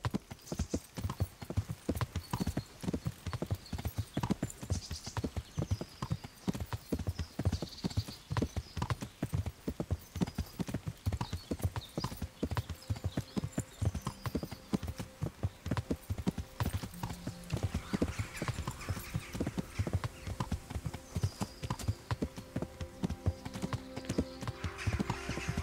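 Horse hooves clip-clop in a steady riding gait throughout the video game Kingdom Come: Deliverance, close and continuous, with faint background game ambience.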